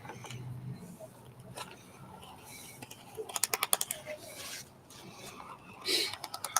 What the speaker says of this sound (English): As long as you're hearing those bones clicking, you're doing the right thing.